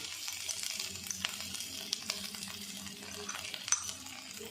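Ginger garlic masala for pallipalayam mushroom sautés in a pan with a soft, steady sizzle, broken by occasional light clinks and scrapes of a spoon against the pan.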